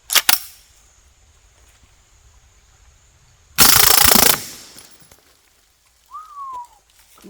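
A full-auto IMI Micro Uzi fires subsonic rounds at an outdoor range in one short, loud burst that lasts under a second, after a couple of sharp clicks and a quiet pause, followed by a brief whistle-like tone.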